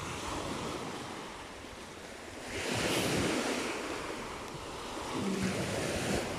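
Sea waves surging onto a shore at a seaside sightseeing spot, a steady broadband wash that swells louder around the middle and again near the end, mixed with wind rumble on the microphone and no talk.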